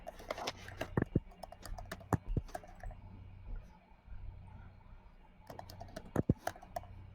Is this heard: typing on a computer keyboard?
yes